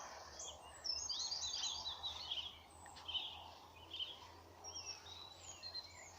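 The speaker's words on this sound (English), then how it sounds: "Certainly loads of little birdies singing different ones" Several small woodland birds sing and chirp with varied high calls, some close and others farther off, over quiet outdoor ambience.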